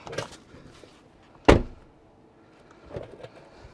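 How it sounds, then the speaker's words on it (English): A Tesla car door swings shut with one sharp, close thud partway through, framed by faint rustling and small handling noises before and after. "Shut the door."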